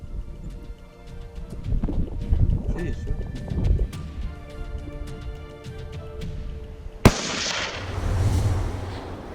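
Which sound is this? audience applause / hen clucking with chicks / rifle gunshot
rifle gunshot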